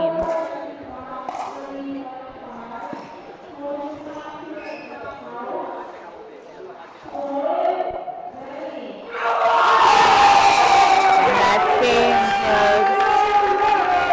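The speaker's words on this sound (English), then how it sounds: "I'm sure you can probably hear all the cheering from Team India." Team India supporters at an outdoor pickleball match in Pattaya, Thailand cheer in a loud crowd roar that swells sharply near the end, following a stretch of speech over scattered crowd noise and paddle hits.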